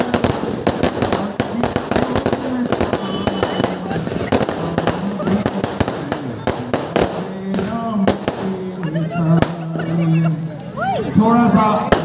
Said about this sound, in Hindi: पटाखे से आप बिल्कुल भी अंदाज़ा लगाएं, रावण जलाया जा चुका है